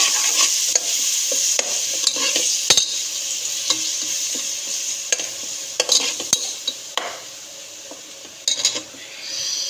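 Spices sizzle steadily in hot oil at the start of a cabbage and potato curry. A spoon stirs and clinks against the pan now and then over the constant frying hiss.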